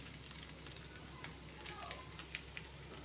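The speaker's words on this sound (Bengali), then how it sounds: "একটু সবজি মশলা আর নুন দিয়ে একটু ভাজা ভাজা করছি" Potatoes frying in a pan with vegetable spice and salt, a faint steady sizzle with occasional small crackles and scrapes, quiet and close.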